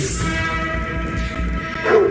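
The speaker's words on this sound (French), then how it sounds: "C'est un chien, ça." A dog gives several short woofs and yips indoors. The barks sit at a moderate distance under a steady background hum and end with a brief higher whine.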